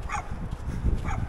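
A single dog barks twice in the distance, faint over outdoor background noise during a walk, said to sound like the Philippines.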